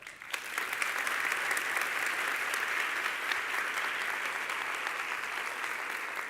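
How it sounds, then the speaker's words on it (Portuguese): A church congregation applauds steadily from start to finish, a dense sustained patter of clapping at even volume with no break and no talk over it. "Eu queria que você desse uma salva de palmas para ela."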